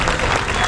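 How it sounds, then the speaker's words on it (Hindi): Loud, dense audience applause at a Holi kavi sammelan poetry recital, a brief burst of close clapping. "एक बार तालियां बजा के बताइएगा कि आप सब कवि सम्मेलन सुनने ही आए हुए"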